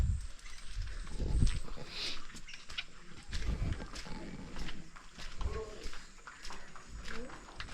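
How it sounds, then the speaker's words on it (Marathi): Rainy village outdoor ambience in the Konkan with a squirrel and birds calling, some high chirps and squeaky cries over a low rumble, with people talking intermittently nearby. "पाखरं ओरडते आहेत खारुताई ओरडते"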